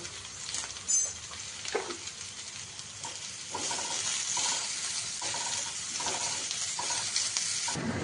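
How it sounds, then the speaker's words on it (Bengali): Chopped onion frying with a pinch of salt in a pan for egg chops, a steady close sizzle with scraping stir strokes and a few clinks, growing fuller midway and holding with no talk. "আমি পেঁয়াজ ভাজার সময় এক চামচ নুন দিলাম"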